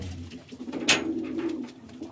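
A captured wild pigeon coos in a low, steady rolling call held close, with one sharp rustling burst near the middle, as of flapping wings or handling.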